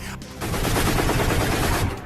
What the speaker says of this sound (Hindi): अब तक यूक्रेन में गोली चल चुकी है,